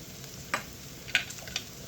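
Crushed dried herbs and Italian seasoning dropped into hot oil in a pan while cooking bucatini amatricana, giving a low steady sizzle with a few sharp scraping stirs or taps, close and without talk.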